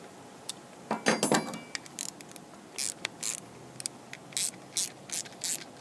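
Ratchet driving a 7 mm socket to tighten the bowl screws on the carburetor of a 2019 Bolens push mower: a burst of quick, close clicking early on, followed by several shorter, separate clicking runs at an even pace.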